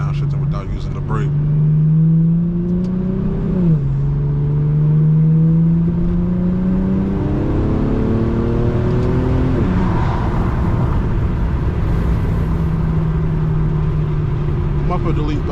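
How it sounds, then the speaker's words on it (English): An Infiniti G37 with a muffler delete downshifts at night, the loud, raspy engine note climbing and dropping through several gear changes as revs blip between shifts, heard from inside the car. "Downshifting without using the brake."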